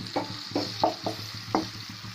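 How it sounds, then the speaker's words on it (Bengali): Chopped onions and green chillies fry in a pan with a soft, steady sizzle, broken by several quiet scrapes and clacks of stirring at irregular intervals. "এখন আমি পেঁয়াজটাকে বন্ধুরা একটু ভাজা ভাজা করে নেব।"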